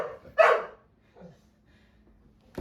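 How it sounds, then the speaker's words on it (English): A single loud, close dog bark rings out indoors, followed by a fainter yip and quiet whimpering sounds in an otherwise hushed room. "The girls are going to start barking here."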